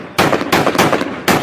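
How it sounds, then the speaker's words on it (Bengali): Gunfire aimed at a helicopter in Iran in news footage, heard as several loud broadband bursts in quick succession, each lasting a few tenths of a second, with no talk. "গুলি করার ছবিটি দেখাচ্ছি।"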